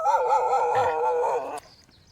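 A dog on a remote island in Southeast Asia lets out a single loud, close, drawn-out whining howl of about a second and a half that cuts off abruptly.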